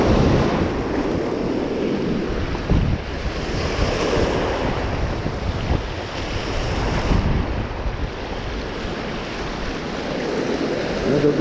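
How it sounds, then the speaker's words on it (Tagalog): Big ocean waves break and wash ashore at high tide on the Guam coast, a continuous close roar of surf with gusting wind buffeting the microphone. "Another big wave."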